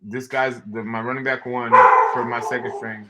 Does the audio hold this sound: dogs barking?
yes